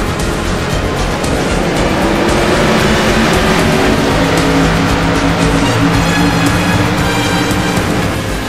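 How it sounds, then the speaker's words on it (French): Race cars on the final lap of a season-opening stage event, a loud, continuous roar of engines and track noise that holds steady from start to finish with no voices. "tous les pilotes sont prêts pour un dernier tour de piste"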